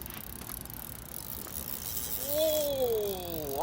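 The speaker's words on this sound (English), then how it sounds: "look at the way the old line's whirring about" Carp fishing line whirring off a reel beside a river, a steady rough mechanical whir with a rising, wavering whine near the end, close and alone.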